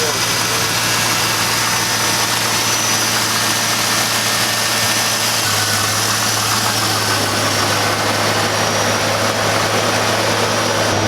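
A Camaro Z28 V8, run again after five years of neglect, idles smoothly and loudly up close, a steady even rumble with a constant hum throughout.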